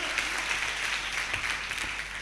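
Higher secondary students at a conference hall in Kannur give a round of applause, a dense even clapping that runs throughout at moderate volume, with a few faint low thumps beneath.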